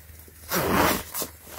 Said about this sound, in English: got the two other zipper on each side of the neck